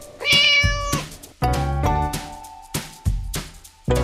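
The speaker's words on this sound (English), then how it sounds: "cat," A cat meows several times in a row, each call clear and close, with short pauses between them.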